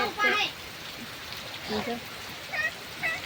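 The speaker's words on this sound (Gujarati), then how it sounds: "વરસાદ આવે બાપડિયા બહુ વરસાદ આવે છે બહુ વરસાદ આવે છે" Heavy rain pours down during a storm, a steady broadband hiss running under a person's talking throughout.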